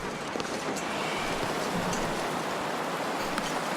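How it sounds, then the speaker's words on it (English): Wind roars steadily through a snowstorm, a broad, unbroken rushing noise close to the microphone with no pauses. "the wind is tapering off a little bit, but the snow is not"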